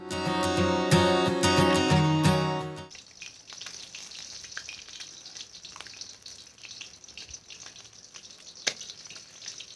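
After a brief ringing tonal sound, food fries in mustard oil in a pan with a steady, close hiss and scattered small pops, moderately loud, with one sharper clack near the end.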